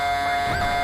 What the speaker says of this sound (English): There's a little air horn action for you there, my man.